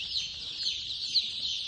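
A crowd of young chicks chirps continuously around a drinking-water stand, a dense overlapping high-pitched peeping that stays close and steady throughout, with no talking.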